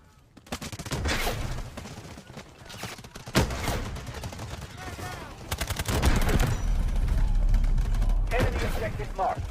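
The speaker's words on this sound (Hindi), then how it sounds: "जो अपनी आर्टिलरी बैराज होती है, मतलब जैसे कि मैंने वो एनेबल की है" Dense gunfire and explosions of an artillery barrage in the Delta Force Mobile shooter game, with loud overlapping blasts and bursts building toward the end and no one speaking.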